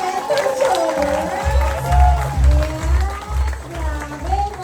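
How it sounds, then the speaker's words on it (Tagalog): An audience claps and cheers for Mentor Jobert, a crowd giving rhythmic low thumping and applause beneath a loud, excited voice over a microphone. "palakpakan naman natin sa Mentor Jobert"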